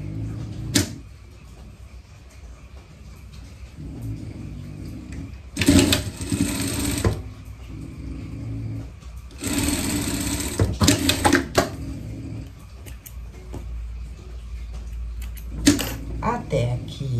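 A sewing machine stitches the shoulder seam of small pet pajamas in several short bursts of rapid mechanical whirring, separated by quieter pauses with handling noises and someone talking in between.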